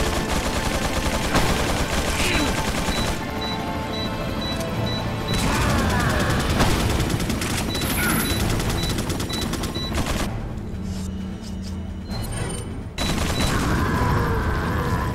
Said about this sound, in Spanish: oyes ametralladoras por todos lados